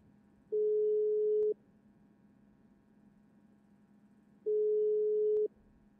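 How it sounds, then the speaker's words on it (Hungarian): A phone call in the GTA RP game sounds two long, even electronic tones about a second each, spaced a few seconds apart over a quiet hum, with no talking. "Felhívja Somát, megcsörget, hogy jön a PD-re."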